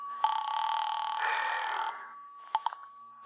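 An old telephone rings in a radio drama: a long steady electric ring, then a few short clicks and bursts of ringing, close and clean against a silent background.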